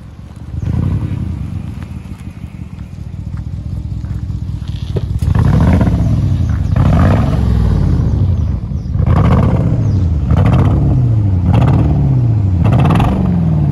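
A TechArt-tuned Porsche Cayenne Turbo drives by with a loud, rising and falling engine roar. Repeated revs and surges swell close to the listener, and no voices are heard.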